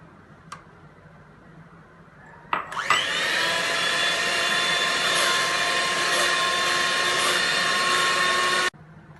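An electric mixer whirs into action, beating four egg yolks for a red velvet cake, starting abruptly after a quiet pause and holding a steady high-pitched motor whine for several seconds before cutting off.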